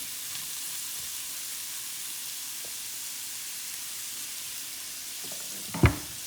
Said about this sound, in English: you want to saute these until your onions are translucent and your carrots are a little bit soft